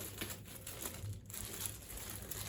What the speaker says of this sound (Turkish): Şöyle açalım kutusunu. Poşetini.